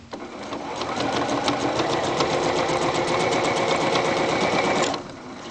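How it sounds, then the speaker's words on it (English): A sewing machine stitches steadily along the edge of a couture waistband, a fast continuous mechanical whirr running for about five seconds before stopping abruptly near the end, close and loud with no talking. "So I'm sewing as close to the edge as I can."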